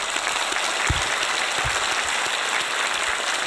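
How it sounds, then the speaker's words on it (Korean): A church congregation gives sustained, dense applause that fills the room, with a few louder claps standing out. It continues evenly throughout, with no speech. "하나님께 박수합시다"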